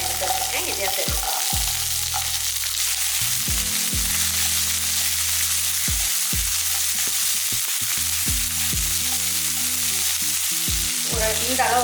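Shallots and masala sautéing in a pan for a Tamil chicken meatball curry, with a steady loud sizzle broken by repeated scraping stirs of a spoon against the pan, no voices.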